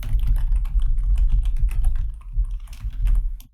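Typing on a computer keyboard while writing JavaScript code, a loud, close, rapid patter of key clicks in uneven bursts with a short pause near the end.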